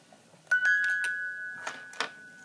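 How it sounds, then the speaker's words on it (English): A small music bell chimes on a Lalaloopsy mini Bluebell Dewdrop doll toy: a few light, bright metallic dings with short ringing tails, close and fairly soft in a quiet room. "It's a music bell, guys."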